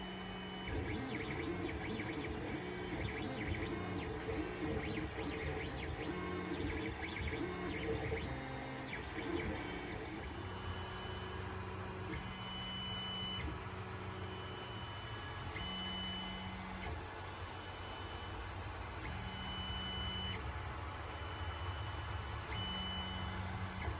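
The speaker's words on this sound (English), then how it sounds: "let's get printing." A 3D printer prints an oil catch can bracket for a Freelander 2 with faint, steady stepper-motor whirring and shifting tonal buzzes that continue throughout.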